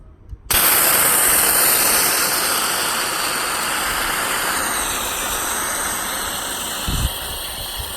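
A fire extinguisher, one meant to be plumbed in, is discharged at close range. After a quiet start it bursts into a loud, steady, broadband hiss that lasts through the whole stretch and fades slightly near the end.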